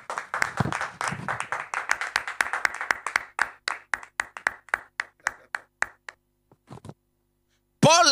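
A church congregation applauding, with dense rhythmic clapping that gradually thins out to a few scattered claps and stops, before a brief voice at the very end.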